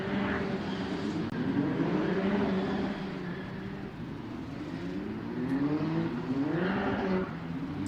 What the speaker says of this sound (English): The cars making their way to the starting grid for the third race of Formula Regional Middle East Championship